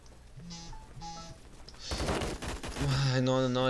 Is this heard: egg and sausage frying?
no